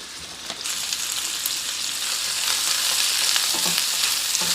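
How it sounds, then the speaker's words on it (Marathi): Onions fry in hot oil in a pan for a paneer gravy, a continuous loud sizzle with faint scraping of a spoon, heard close with no voices. "कांदा छान परतून घ्यायचा आहे।"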